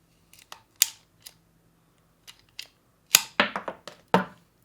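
Ratcheting pruning shears bite into a small branch, giving a series of sharp, close snaps and clicks spaced irregularly over a few seconds, with a cluster of quick clacks near the end.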